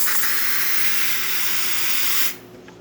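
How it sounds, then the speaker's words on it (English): Steady steam hisses loudly from the wand of a Saeco Italia coffee machine, a continuous broadband rush that cuts off abruptly near the end, leaving quiet. "nice steady steam coming out of here"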